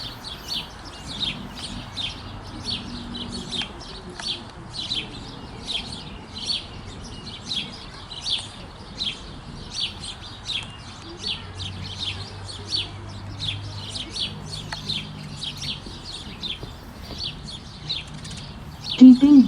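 Sparrows chirp in quick repeated bursts throughout, a steady chatter of small bird calls at moderate distance over faint low background hum.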